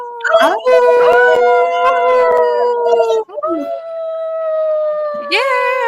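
Several people howl together in imitation of wolves, long sustained rising and falling tones layered over one another, loud and close, with a brief break midway before the howling resumes and a sharp whoop near the end.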